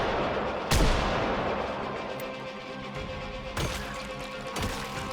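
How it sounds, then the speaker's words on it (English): Three sharp, loud gunshots fired at zombies in the video game Project Zomboid, irregularly spaced over a low rumbling background. "I quickly shoot down the first few zombies."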